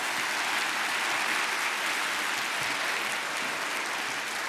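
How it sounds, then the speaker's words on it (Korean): A church congregation applauding together, a continuous, even wash of many hands clapping at moderate volume with no voices standing out. "우리 하나님께 감사와 찬양의 박수 올려드립니다"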